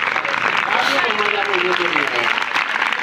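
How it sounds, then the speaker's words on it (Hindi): Applause from an audience at a school event, a broad steady wash of clapping with voices and a spoken word carrying over it throughout. "एक बार जोरदार तालियों से"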